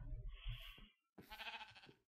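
Two quavering sheep bleats from Minecraft, close and clear, the first a short nasal cry and the second a longer wavering call after a brief pause, with no speech.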